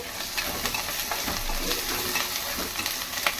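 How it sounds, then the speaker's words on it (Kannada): Spices sizzle and crackle in hot oil for a Kannada fish curry, a steady close frying hiss with scattered pops and a stirring scrape around the middle, no voices. "ಚೆನ್ನಾಗಿ ಫ್ರೈ ಆಗಬೇಕು ನೋಡಿ"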